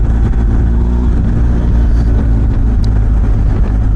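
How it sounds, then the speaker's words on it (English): A BMW R 1250 GS Adventure motorcycle engine roars continuously up close while riding, with rough low rumble and slight rises in pitch, alongside wind noise. "Make some motorcycle music."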